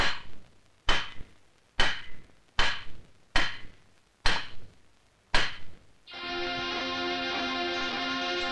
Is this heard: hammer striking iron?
yes